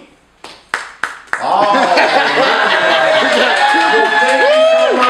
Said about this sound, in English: clap if this is the first time that you've ever seen improv comedy